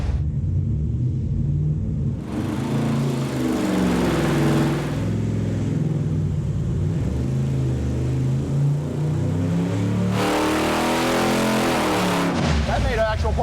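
A rebuilt junkyard Hemi V8 engine roars and revs under load on a dyno for several seconds, rising in pitch and falling back, loud and steady throughout.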